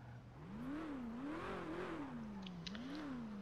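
A car engine in FiveM on GTA V revs hard and steadily, its pitch climbing and dipping through several surges as the transmission is pushed, fairly faint but continuous.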